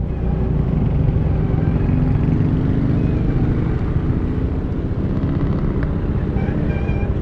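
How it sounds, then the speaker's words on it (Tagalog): Dense, steady road noise heard while riding a motorcycle through traffic in Taytay, a continuous low rumble of engines and wind with no breaks or talking. "at medyo traffic."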